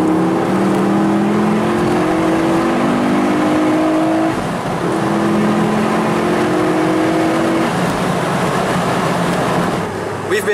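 A Ford Focus RS engine drones loudly and steadily while driving on a road trip, its tone rising and falling gently through gear changes with constant road and wind noise.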